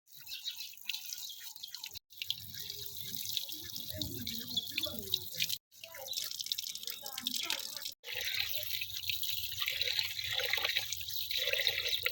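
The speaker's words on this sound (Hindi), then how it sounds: "पहले अब पानी गर्म हो जा रहा है, दाल धो लेते हैं।" Lentils being washed under running tap water in a home kitchen sink, a steady faint trickle and splashing with brief pauses as the water stops and restarts.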